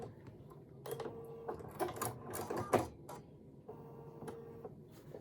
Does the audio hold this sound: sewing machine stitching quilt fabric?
yes